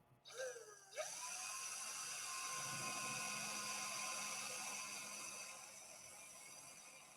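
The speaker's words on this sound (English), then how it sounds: "Drill 2 1/8-inch holes equally spaced in the cup." A high-pitched power drill spins up and whines steadily for several seconds, drilling 1/8-inch holes in an engine mount cup, then slowly fades, heard close with no voices.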